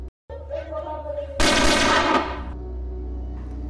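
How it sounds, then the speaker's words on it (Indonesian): A sudden loud burst of gunfire erupts for about a second amid a dense, noisy background, then fades into a steady rumble. "Satu anak buah Kana terjatuh karena terkena tembakan."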